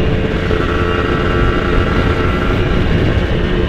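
A standard Kawasaki Ninja RR two-stroke motorcycle, fitted with a tuned TM 32 carburetor and an aftermarket exhaust, roars loudly and steadily while being ridden, its engine note close and continuous throughout.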